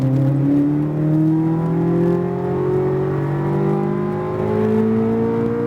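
A Corvette Z06 on a race track accelerates hard, its engine note climbing steadily and loud and close, with a smooth rising whine throughout.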